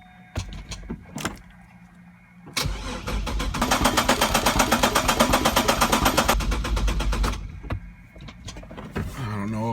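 A 3800 Series II twin-turbo V6 in a Camaro cranks over for several seconds with a steady rhythmic starter churn, loud and close, bracketed by clicks and brief talk before and after.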